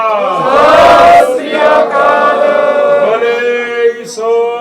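At a Delhi Sikh committee election press event, a crowd roars the Sat Sri Akal jaikara response, a loud sustained collective shout that swells, holds, and tapers over several seconds.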